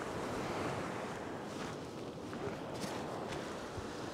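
Ocean surf breaks against a turbulent stretch of shore at a fishing spot, a steady, broad wash of water with wind noise and no talking.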